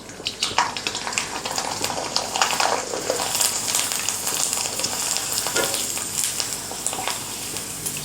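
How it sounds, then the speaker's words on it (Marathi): Rice flour kurdai frying in hot oil, a loud, steady crackling sizzle with bubbling surges that runs throughout. "आता आपण ही कुरडई तेलामध्ये सोडूयात."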